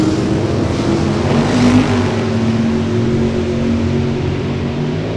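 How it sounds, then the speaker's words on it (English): A 1970 Plymouth Duster drag race car with a 505 cubic inch engine roars steadily and loudly, a sustained heavy engine drone with a slight swell in the middle, no voices. "The 1970 Duster with 505 cubic inches of Pentastar power under the hood."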